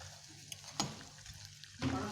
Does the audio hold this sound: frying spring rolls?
yes